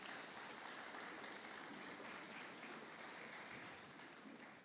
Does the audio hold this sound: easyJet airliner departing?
no